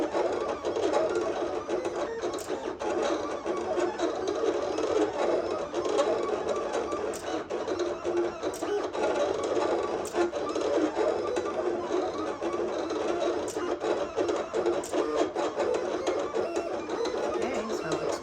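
Silhouette Cameo Pro cutter slicing Siser EasyWeed heat-transfer vinyl on a mat: a continuous mechanical whirring and buzzing drone with faint periodic clicks, steady and close for the whole stretch.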